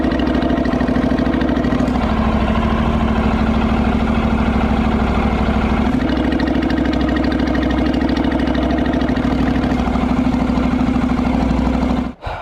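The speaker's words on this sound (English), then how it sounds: "demonstrating what the idle note sounded like with and without that modified muffler on" A 2014 Honda CTX700 motorcycle with a modified muffler idles steadily nearby, a loud, even low rumble with a slight surge in tone around the middle, cutting off abruptly at the very end.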